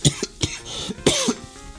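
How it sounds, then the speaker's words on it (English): Several short, harsh coughs close by, spaced irregularly with brief pauses between them, no talking. "apparently we didn't make it through all 3 episodes without another cough"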